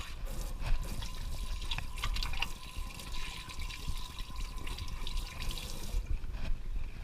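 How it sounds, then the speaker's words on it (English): Hands being washed under a running kitchen tap after rubbing down pork with spice mix: a steady close rush of water with splashing and small drips, continuous throughout and without talk. "I'll go ahead and wash my hands."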